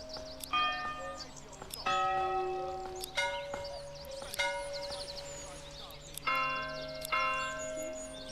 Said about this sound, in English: you guys can determine what our bell sounds like